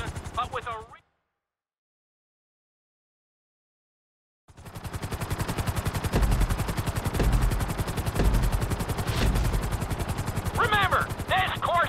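Helicopter in GTA 5 flight school, a rapid rotor chop that pulses under a narrator's voice, cutting out briefly before returning loud and continuous.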